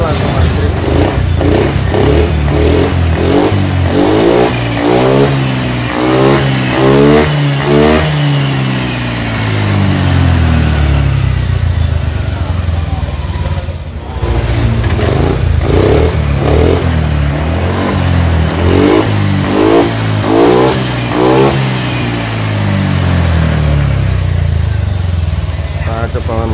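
A Honda Vario 125 scooter running after a double-starter start, engine repeatedly revved up and settling back, loud and close, with someone talking over it throughout.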